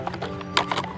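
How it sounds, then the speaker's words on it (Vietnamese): A toy horse plays a short electronic whinny with clip-clop hoof sounds, moderately loud and close, with no talking. "Đấy, đây là một con ngựa này."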